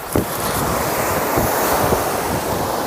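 Sea waves and strong wind roar steadily on the Pozhiyoor coast where backwater meets sea, with a constant broadband wash, wind buffeting the microphone and occasional surges of breaking surf and no voices.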